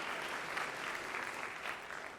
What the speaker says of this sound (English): Can we give a round of applause one more time to the Manhattan Center?